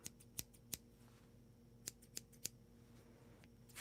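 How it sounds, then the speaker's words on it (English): Quiet scissors snip a few times, sharp separate clicks spaced irregularly against a faint steady hum, close and soft, with no voices. "These are not what I would call very loud or very scrapey scissors."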